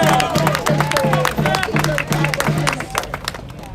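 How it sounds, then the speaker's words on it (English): Crowd applause with scattered cheers at a rally against police brutality, clapping loud and close, while a voice and a low rhythmic pulse continue underneath, fading toward the end. "Give her a round of applause."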